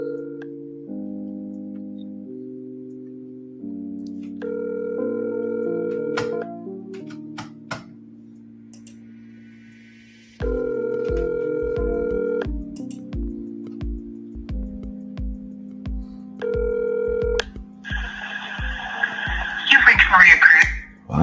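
A phone rings out on a call back to a seller, a repeating electronic ringback melody of steady tonal phrases that cycles through twice, with a burst of voice at the end.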